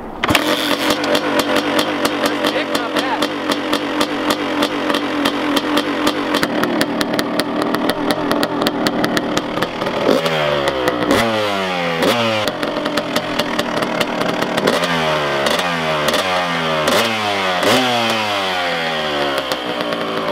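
A Kawasaki KX250 two-stroke dirt bike engine kicks over, catches and revs hard, loud and close, with a steady buzzing idle broken by repeated sharp throttle blips that rise and fall in pitch.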